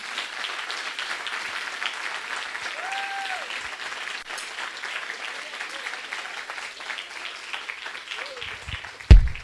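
Church congregation applauding during a Spanish-language service: sustained moderate clapping from many people, with brief voices and a tonal cry rising over it, ending in a sharp knock near the close.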